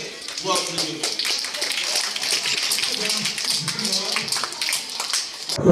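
Applause at a school's annual sports prize distribution ceremony, a dense sustained patter of many hands clapping throughout, with voices mixed in underneath.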